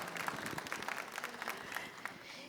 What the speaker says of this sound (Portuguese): Vamos aplaudir, acolher com uma salva de palmas